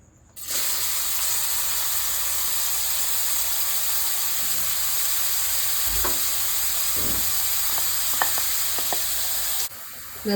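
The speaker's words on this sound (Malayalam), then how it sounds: "ഇത് എണ്ണ ചൂടായി അതിലേക്ക് ഇട്ട് കൊടുക്കുകയാണ്" Finely chopped onions and green chilies drop into hot oil and burst into a loud, steady sizzle that holds for about nine seconds with a few light stirring clicks, then cuts off; no one speaks.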